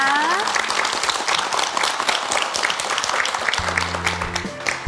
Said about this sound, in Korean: 이 가정의 꿈이 꼭 이루어지기를 바라면서 큰 박수 보내드릴까요?